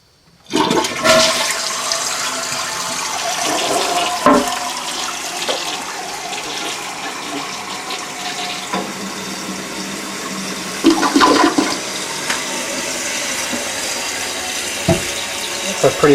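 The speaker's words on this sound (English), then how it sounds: "It's a pretty powerful flush." A 1984 Kohler toilet flushes after a tank rebuild: a loud, close rush of water swirling down the bowl, easing into steady refill hiss and trickling, with a few clunks and a brief voice in the background.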